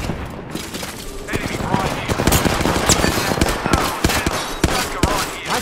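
Gunfire in an Apex Legends Arenas match: rapid bursts of automatic shots crackle close and loud, with sharp single reports mixed in and a player's voice talking over the shooting.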